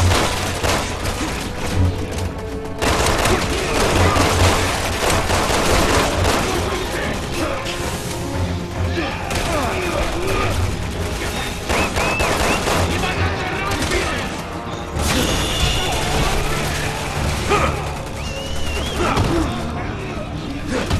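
Relentless gunfire from a Resident Evil 6 fight in Chris's campaign, with rapid bursts and heavy booms packed densely together for the whole stretch, loud and close over a dense soundtrack, with voices partly buried in the mix.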